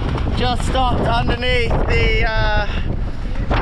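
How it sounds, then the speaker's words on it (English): Heavy wind buffets the microphone in a constant low roar while someone speaks over it, at the Needles on the Isle of Wight during wing foiling. "it's looking windy enough"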